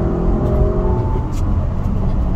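An Audi RS6 Sledgehammer drives on a race track, its engine droning loudly and steadily from close by as it takes a turn.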